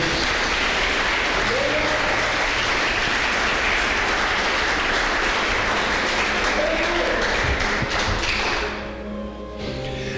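A church congregation applauds at length, dense sustained clapping with scattered sharp taps and thumps, loud and close, before fading near the end while organ or keyboard tones hum underneath.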